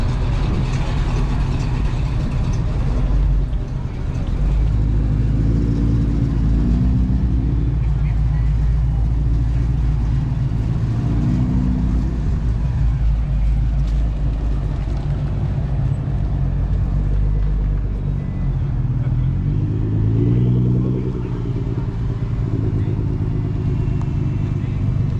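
Engine rumble from a Nissan GT-R at an outdoor car show, a constant low drone with crowd noise and voices talking over it throughout.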